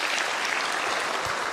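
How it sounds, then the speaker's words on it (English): A school audience at a college signing day bursts into thick, continuous applause for a supporter, loud and uniform across the whole moment without speech. "Please give him a round of applause."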